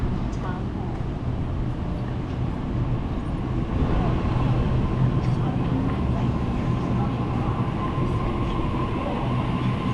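Passenger train B36 pulls into platform 1 at Revesby Station, a steady low rumble of wheels and motors filling the platform for the whole stretch, with no talking.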